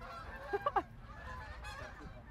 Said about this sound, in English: There's a bunch of geese flying overhead.